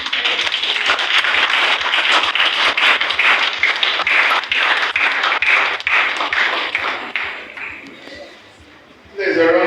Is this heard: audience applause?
yes